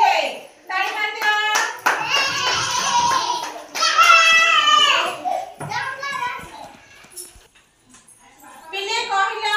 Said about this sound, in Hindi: ताली मार दियो।